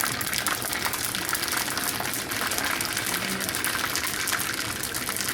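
Mustard seeds and a pinch of fenugreek sizzle in hot oil, a dense, steady crackling hiss heard close throughout, with faint popping flecks over the continuous fry.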